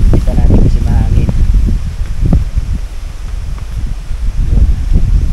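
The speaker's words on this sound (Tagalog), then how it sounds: "Kita natin kasi mahangin." Wind gusting at a campsite during tarp setup, low rumbling buffets across the microphone mixed with rustling and handling knocks, close and uneven throughout.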